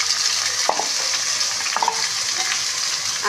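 Carrots, beans and capsicum tipped into a hot pan for a vegetarian dal, a close, dense sizzle with scraping stir strokes and small clicks throughout, no voices.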